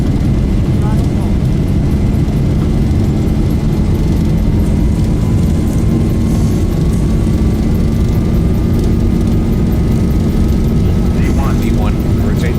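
Boeing 737 jet engines spooling to takeoff thrust in the Zibo Mod flight simulator, a loud continuous roar with a rising whine. Voices talk over it.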